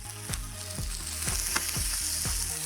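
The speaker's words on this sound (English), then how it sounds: "And everything starts getting sauteed over here." Mushrooms, napa cabbage and green onion sautéing in a hot pan for street-style lo mein, a loud steady sizzle broken by rhythmic stirring scrapes about every half second.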